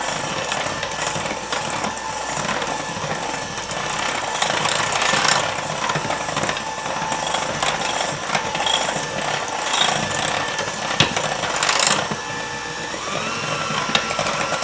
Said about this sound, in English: we're going to use our electric mixer again here. And we're just going to bring this all together.